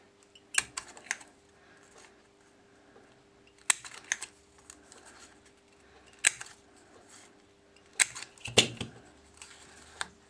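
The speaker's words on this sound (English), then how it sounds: "Next thing we're going to do is bring in our 3/16 inch corner round burr punch." A 3/16 inch corner round punch snips the corners of a stamped Whisper White card panel, giving a few sharp, crisp clicks spaced several seconds apart, close and distinct over a quiet background.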